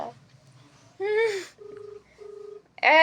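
A child pressing buttons on a phone sets off a few short electronic dialing beeps, separated by brief pauses, close by with a little background voice and a child's sound.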